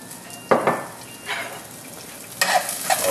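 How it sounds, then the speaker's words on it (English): Scallions hit hot olive oil in a pan while cooking pumpkin and potato soup, giving a loud hissing sizzle that flares up in three separate bursts between quieter frying crackle, close by with no voices. "a little bit of olive oil as I mentioned before. See, start to sizzle."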